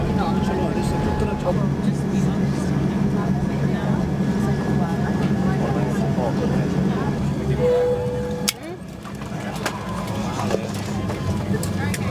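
A Virgin Atlantic Boeing 787-9 taxis to the terminal at Los Angeles, heard from the cabin as a steady, loud low rumble with a sharp thump partway through, under faint cabin chatter.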